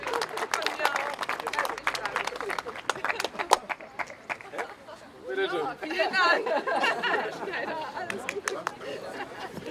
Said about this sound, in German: einen kleinen Applaus bitte für das Brillenetui